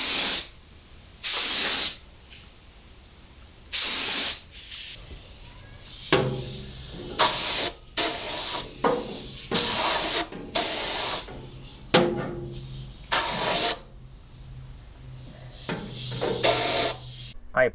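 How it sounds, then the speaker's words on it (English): Zero Rust coating sprays from an aerosol can into a car's front frame rail and bracket, a run of loud, close hissing bursts of varying length separated by short pauses. "I applied a coat of Zero Rust to the inside of the frame rail as well as the bracket."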